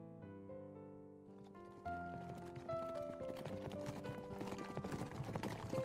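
A horse's hooves clip-clop in a quick, steady rhythm of sharp knocks, entering after a soft musical opening and continuing over sustained background music.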